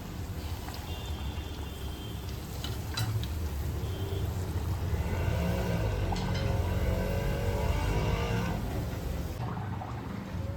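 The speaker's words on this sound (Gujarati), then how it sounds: "આ રીતે બધી પૂરી આપણે તળી લઈશું." Puris deep-frying in hot oil for dal pakwan, a continuous loud sizzle and bubbling that runs steadily throughout with no talk.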